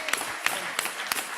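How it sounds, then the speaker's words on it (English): Applause from an assembly session crowd, a brief wash of clapping with a few sharper claps standing out at regular intervals. "give my priest sisters another round of applause"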